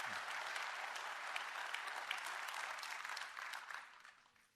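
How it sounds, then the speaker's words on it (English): An audience at a tech conference session applauds a guest speaker named Dave, steady dense clapping that fills the room and fades out toward the end. "Please, a round of applause for Dave."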